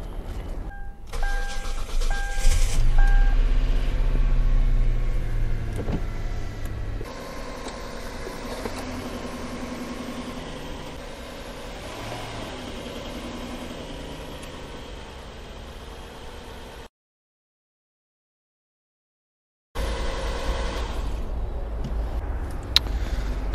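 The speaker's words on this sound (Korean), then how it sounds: "시동을 걸어볼까?" A car restored with junkyard parts is started after fresh engine oil is added: a starter crank catches into a steady idle that runs on, then cuts out briefly before the engine sound returns.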